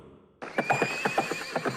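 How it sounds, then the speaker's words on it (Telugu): Horse whinnies in a loud, close, quavering neigh lasting over a second, its pulsing tone breaking into rapid bursts, set in a story about a flying horse. "ఎగిరే గుర్రం"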